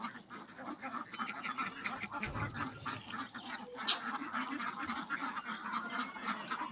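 Hundreds of ducks on a village farm beside their shed quack in a dense, overlapping chorus, fairly faint and steady throughout, with occasional honking calls mixed in.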